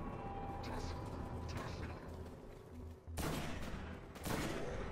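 Rapid gunfire comes from the Destiny beta video game, with dense volleys of shots in a busy battle mix. A sharper, louder burst of firing arrives in the last two seconds.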